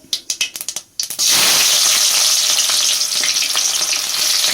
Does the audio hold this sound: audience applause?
no